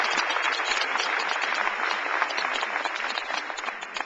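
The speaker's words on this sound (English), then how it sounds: "Please give yourselves a huge round of applause." Loud, sustained applause from a large audience at a teachers' union town hall, dense clapping filling the room steadily for several seconds and tapering slightly at the end.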